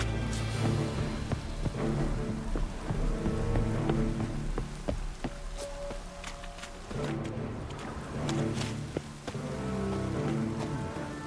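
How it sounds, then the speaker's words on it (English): Heavy rain pours without a break across a stormy scene in the video game The Witcher 3, a dense, constant hiss with a low rumble underneath, loud and close throughout. "Looks like rain. Wasn't supposed to rain."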